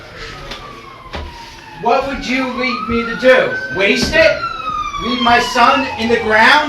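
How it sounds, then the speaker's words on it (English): An ambulance siren wails with rising and falling tones through several cycles, loud and close, under a man's dramatic spoken reading. "That's the ambulance."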